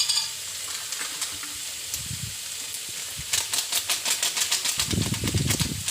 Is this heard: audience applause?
no